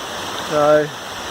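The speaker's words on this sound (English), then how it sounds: "Back to the waterfall from this morning." A waterfall along a hiking trail near Wright, Algonquin and Iroquois peaks in the Adirondacks gives a steady, even rushing hiss. A short voice sounds briefly over it.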